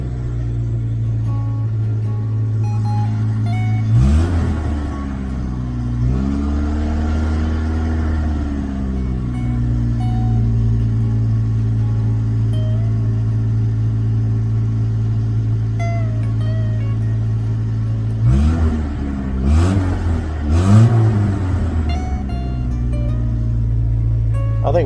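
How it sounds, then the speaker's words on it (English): A Mitsubishi 4G54 engine with an auto-choke high-idle fault hums at a steady close idle, its throttle blipped in a few quick revs early on and twice more near the end, each settling back. "let's see if we can blip the throttle"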